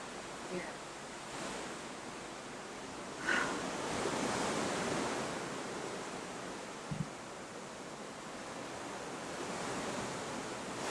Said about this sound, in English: We are in a big sea. We are in open water.